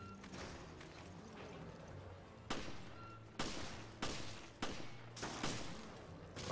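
Gunfire in the video game Resident Evil Revelations: a run of loud, sharp shots at about one per second, each with a short tail, over a steady rumbling game background, no talk.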